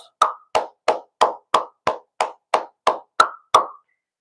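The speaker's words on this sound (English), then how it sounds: "let's give him a round of applause." Eleven single hand claps land one after another at a steady, slow pace, crisp and close, with silence in between.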